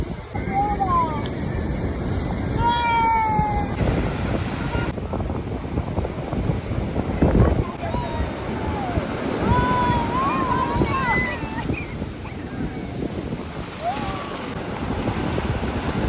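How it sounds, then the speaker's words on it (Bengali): Heavy surf roars and crashes continuously at Puri beach during a full-moon high tide, under gusty wind noise, with a voice briefly calling out over the rumble of the waves. "পূর্ণিমায় একদম জোয়ারে বড় বড় ঢেউ"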